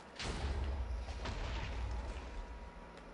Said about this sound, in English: Yo, but look at this explosion though.